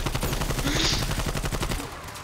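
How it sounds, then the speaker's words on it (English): Continuous rapid gunfire from a Call of Duty Zombies video game, with dense, loud automatic bursts that fade slightly near the end. "Shoot him!"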